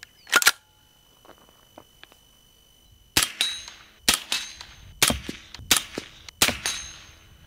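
Suppressed pistol shots firing Fiocchi 115 grain rounds through an Angstadt Arms Vanquish, one sharp crack and then a steady string of five loud reports at close range, with no talking.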